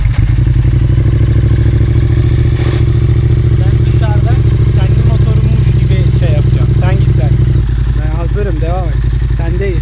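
A Yamaha R7 motorcycle with an Akrapovic exhaust idles loudly and steadily with a deep, throbbing exhaust rumble, while people talk over it nearby.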